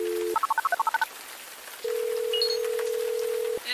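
In the video game Gemini Rue, a short steady phone tone gives way to a quick run of about eight beeping keypad dial tones, a pause, then a long continuous dial tone and a faint ring at the end; no talk.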